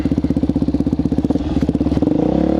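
A Suzuki DRZ400SM supermoto motorcycle runs close by with a loud, rapid single-cylinder thump that quickens toward the end as the revs rise.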